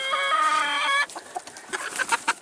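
Hens in a coop by the nesting boxes, one giving a long, loud, drawn-out squawk followed by a run of softer, scattered clucks, close by with no talk.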